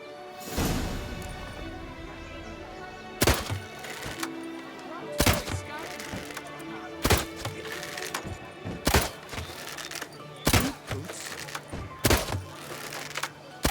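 Shots striking red targets in the video game The Witcher 3, heard as about eight sharp, loud impacts spaced a second or two apart over game ambience and music.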